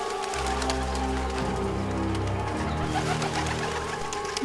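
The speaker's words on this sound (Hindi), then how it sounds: "केशचंद्र की आंखों के सामने ही उन कबूतरों ने सोने के चावल गिराने शुरू कर दिए।" Pigeons coo as a sound effect, low, soft, rolling murmurs that continue steadily and close, with a brief louder noise at the very end.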